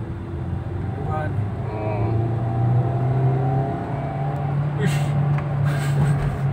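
A Nissan Livina engine pulls hard under acceleration during a power test, a steady rising drone with a low rumble, while people talk over it.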